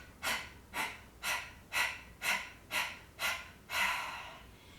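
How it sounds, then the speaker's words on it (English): Eight sharp, forceful breaths are pushed out one after another in a steady rhythm during a beginner yoga breathing exercise, close and clear with no talking. "then you're going to push all the air out on an exhale,"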